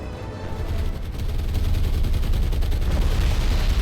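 Bombs dropped on a ship in the naval game War on the Sea set off a heavy, sustained rumble of explosions and gunfire that grows louder and stays dense to the end.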